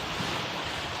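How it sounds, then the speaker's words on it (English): Waves strike the beam of a sailing yacht rounding the tip of an island off the Peloponnese, a continuous close wash of water and wind noise with no voices. "downside is we're getting a few waves on the beam and getting a wash"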